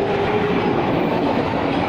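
An 8-car KRL Commuter Line train bound for Cibinong Nambo in Indonesia rumbling past close by, a dense steady roar of wheels and carriages with a faint metallic whine, no voices.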